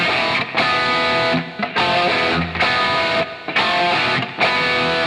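Distorted electric guitar chugging a rhythm riff, loud and close, in repeated bursts with short gaps, played alone without voices.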